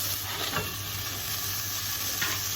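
Tomatoes and peppers tipped into a hot frying pan and stirred, a steady close sizzle with a few soft scraping strokes over a low hum.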